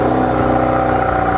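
Hyundai i30N performance hatchback engine running after a restoration, a steady close, loud idle hum with a constant low drone throughout, no voices.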